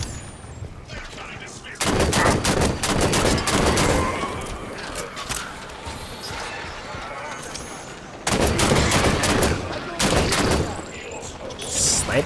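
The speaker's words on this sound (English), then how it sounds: "That DMR though, the most badass weapon in the game so far." DMR rifle gunfire in the video game Halo 5: Guardians, loud bursts of rapid shots in two long volleys separated by quieter stretches of battle ambience.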